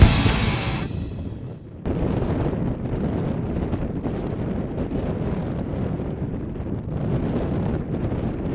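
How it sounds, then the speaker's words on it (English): Strong wind of about 30 miles per hour in open northwestern Colorado country, roaring steadily across the microphone as a dense, continuous buffeting rush, briefly dipping near the start before holding loud throughout. "we've got about a 30-mile-an-hour wind still here"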